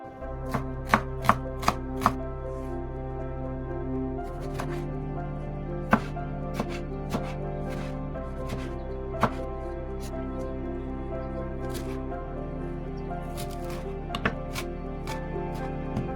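Sharp knife chops through vegetables on a cutting board, irregular and spaced apart, over a steady background of music.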